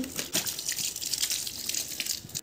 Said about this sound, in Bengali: লেবুগুলোকে এবার জল দিয়ে ভালো করে ধুয়ে নিচ্ছি।